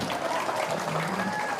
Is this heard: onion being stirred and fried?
no